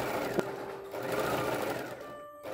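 Sewing machine stitching the side seams of a floral tea-length dress, a steady close whirring hum of the motor and needle running continuously, then slowing briefly near the end.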